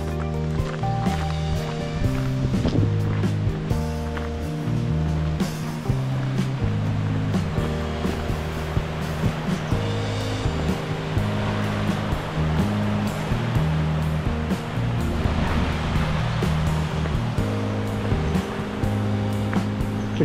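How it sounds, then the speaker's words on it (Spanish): A river roars steadily near a dirt track descending toward a mountain village, its rushing water a constant wash beneath a louder layer of steady tones and clatter. "Ruge el río."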